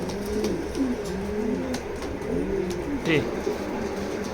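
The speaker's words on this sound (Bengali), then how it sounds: "এক জোড়াই দেখালাম যেহেতু এটা স্পেশাল কবুতর" A pair of black racing pigeons coos in a loft, with repeated soft, throaty rolling calls close by, alone and with no talk.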